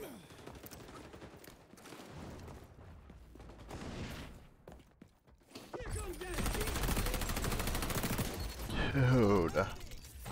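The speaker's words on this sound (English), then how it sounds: "Shotguns, man." Gunfire in the shooter video game XDefiant, with scattered shots at first, then a denser burst of firing and mechanical clicks, mixed with game sounds and brief voices.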